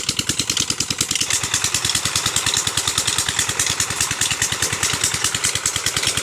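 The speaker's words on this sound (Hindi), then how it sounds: "ये ट्यूबवेल चल रहा है जनाब" A tube well pump engine runs outdoors in farmland near Sialkot, Pakistan, with a steady, loud, rapid thumping chug that holds an even rhythm throughout.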